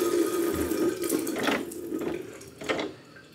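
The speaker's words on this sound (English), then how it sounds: "I'm going to wash my hands." A tap runs into a sink while hands are washed beneath it, a close, steady splashing hiss with brief surges of spattering water.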